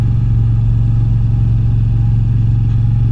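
A 2022 Moto Guzzi V9 Bobber motorcycle engine revs close up, a loud, steady low throb from the V-twin heard alone without speech.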